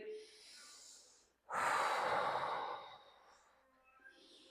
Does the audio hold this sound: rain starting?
no